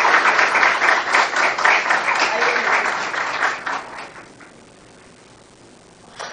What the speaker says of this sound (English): Please, a huge round of applause for her.